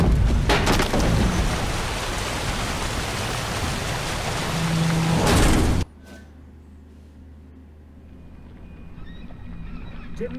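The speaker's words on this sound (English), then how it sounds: "Didn't bargain for no storm." A storm with heavy rain and thunder rages in The Witcher 3 game, a loud roaring downpour for several seconds before cutting abruptly to a quiet, hushed background.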